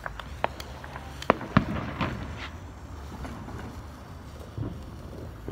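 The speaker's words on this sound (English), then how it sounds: "Look at all the fireworks." Fireworks go off outdoors at a distance: a handful of sharp pops and crackling bangs in the first two seconds, then a quieter rumbling wash with one more muffled burst near the end.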